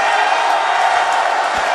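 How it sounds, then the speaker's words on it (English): Audience at a StarCraft 2 event giving a sustained, broad roar of booing and jeering, loud and even throughout, with no talk above it. "There are people booing like, no, shut up."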